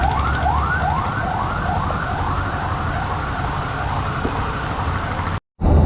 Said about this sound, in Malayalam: ഇതാ ഇപ്പോഴും മൃതദേഹമായിട്ടുള്ള ആംബുലൻസിൻ്റെ വരവാണിത്